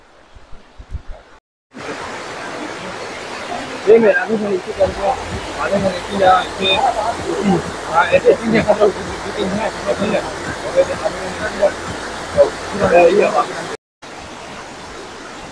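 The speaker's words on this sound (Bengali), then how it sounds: "জলের আওয়াজটা আপনারা শুনতে পাচ্ছেন আশা করছি।" Rushing water at a waterfall in Mainpat, Chhattisgarh, a constant broadband roar that sits under a person talking for most of the time, with brief cuts in the sound near the start and the end.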